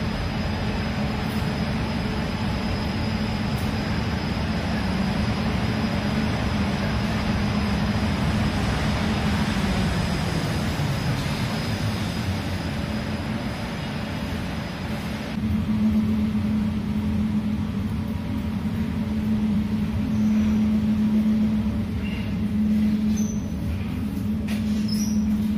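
Perugia Minimetrò people mover running steadily with a continuous low rumble and broadband whir, shifting tone partway through as a humming drone rises, with no talk.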